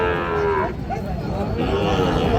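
A cow at a cattle market for Sahiwal-breed bull calves gives a long, loud, close moo that shifts in pitch, with crowd murmur behind it.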